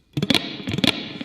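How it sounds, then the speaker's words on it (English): An electric guitar struck with a heavy pick sounds two bright, snappy strummed bursts about half a second apart, then a softer third hit, close and clear with no talking. "Here's the sound of a heavy pick,"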